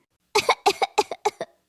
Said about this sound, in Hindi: अचानक काली खांसी की आवाज आई।